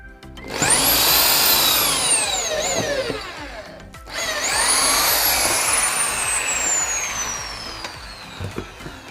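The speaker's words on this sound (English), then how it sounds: "why I'm drilling a hole through that part" A power drill bores a hole through a mop handle in two bursts. Each whine spins up sharply and then slowly falls in pitch as the bit works through, loud and close with no talking.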